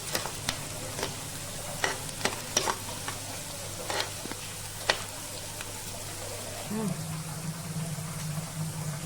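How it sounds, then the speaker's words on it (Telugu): Onions and green chillies dry frying in oil in a pan, a faint continuous sizzle with scattered stirring clicks and scrapes, and a low hum rising near the end. "ఇలా ఇది గోల్డ్ కలర్ వచ్చే వరకు డ్రై ఫ్రై చేసుకోవాలి ఫ్రెండ్స్"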